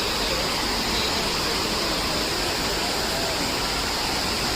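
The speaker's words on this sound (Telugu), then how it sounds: "Water falls." Water rushing steadily at the Narmada Maner waterfall, a constant broadband roar that stays even and unbroken throughout, with no other sounds standing out.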